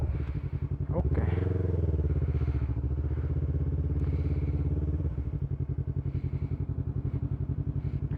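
A Yamaha MT-03 motorcycle engine is revved with the throttle. It climbs sharply in pitch, holds a high, steady rev for about four seconds, then falls back to a lumpy, pulsing idle, close and clear.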